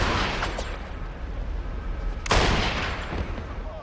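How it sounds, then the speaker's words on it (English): Gunfire from the video game 007: Blood Stone, a dense run of shots with a louder burst near the middle, steady and close throughout with no talk over it. "trying to get a little fancy and I'm missing a bunch of shots."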